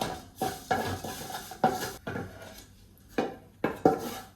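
Ragi flour being roasted in ghee in a pan, stirred with a utensil that makes about eight distinct scraping, clattering strokes at an uneven pace, close and moderately loud, with no talking.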